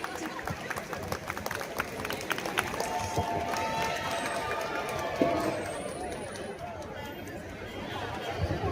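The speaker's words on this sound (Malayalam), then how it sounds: "എല്ലാവരും നല്ലൊരു കയ്യടി കൊടുത്ത് ശ്രീ ഡീൻ കുര്യാക്കോസിനെ ക്ഷണിക്കും." An audience claps to welcome a guest onto the stage at a merchants' event, a steady, dense patter of many hands running for several seconds with crowd chatter mixed in, heard from within the room.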